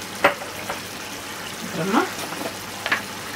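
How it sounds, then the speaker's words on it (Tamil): Fennel and spices sizzle softly in a pan for prawn gravy, a low steady crackle with occasional stirring clinks, while a person talks over it. "நம்ம ஃபஸ்ட்டே சோம்பு போட்டு ஃப்ரை பண்ணியிருக்கோம்"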